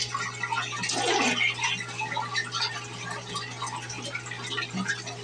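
A 2004 Western Pottery Aris toilet, new old stock, flushes during a performance test with a louder rush of water at first, then a gurgling drain that fades over a steady low hum.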